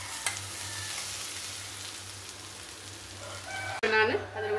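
Curry leaf thokku frying in a pan, a steady sizzle with occasional stirring scrapes over a low hum, followed near the end by a brief burst of voice.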